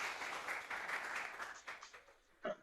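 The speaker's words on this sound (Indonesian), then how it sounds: "Tepuk tangan dong." Applause in a classroom, a brief burst of many hands clapping that fades out over a couple of seconds, ending with a single louder knock.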